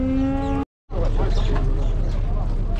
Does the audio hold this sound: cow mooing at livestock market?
yes